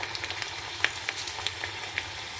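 Green chilies and curry leaves fry in hot oil for a tempering, giving a soft, steady sizzle with small pops and crackles.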